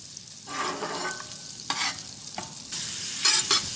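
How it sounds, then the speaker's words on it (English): Butter and oil sizzle on a flat griddle laid with parchment, a steady close frying hiss with bursts of spatula scraping and stirring and no talk. "Butter and the oil spread all the way around."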